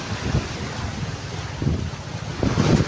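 Strong wind and rough waves at sea, with gusts buffeting the microphone over a continuous rushing roar and surges of water close by.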